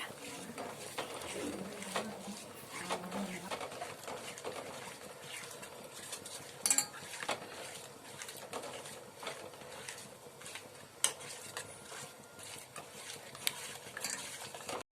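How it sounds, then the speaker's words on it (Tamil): Kunafa ingredients being mixed in a bowl, making continuous wet, rhythmic stirring and scraping with occasional sharp clinks against the bowl, fairly close and moderately quiet, without talking. "நல்லா மிக்ஸ் பண்ணிக்கோங்க"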